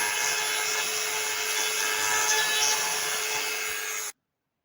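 A hole is drilled or cut into a 3/4 inch PVC pipe, producing a steady, loud whining tool noise that runs continuously for about four seconds and then stops abruptly, with no talking.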